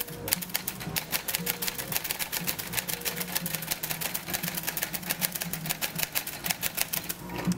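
Rapid, steady key strikes from a 2023 Rover typewriter, a sharp clacking rhythm running throughout with a low mechanical hum underneath, close and fairly loud.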